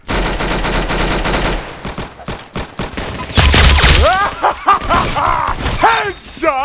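Rapid bursts of automatic gunfire in the Roblox shooter Arsenal, loud and dense for the first second and a half, followed by a voice talking excitedly over scattered in-game effects.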